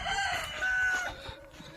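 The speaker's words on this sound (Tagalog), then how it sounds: "papakain siya ng mga manok" A rooster crows loudly and close by on a farm yard, one drawn-out call followed by a few brief clucks from nearby chickens, with faint background clatter and no speech.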